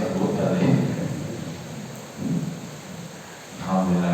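Heavy rain falls outside in a steady hiss with low rumbling swells, a continuous wash at moderate level, while a person talks over it.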